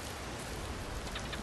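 Steady rain falls in a hunting video game, a dense even hiss filling the scene without pause, moderately loud and alone with no voices.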